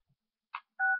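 Telephone keypad dialing tones, two short separate electronic beeps in a quiet room, the second one longer and steadier, with no voices.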